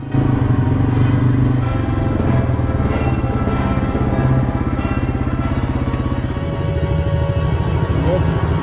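Yamaha TT-R110 dirt bikes ride on a riding range, their small engines buzzing loudly and continuously with a rough, fluttering drone that shifts slightly in pitch as they move.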